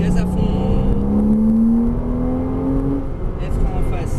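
Porsche Cayman S with 295 hp engine accelerating at full throttle on a winding track, engine note rising steadily for about three seconds, close and loud, with an instructor talking over it.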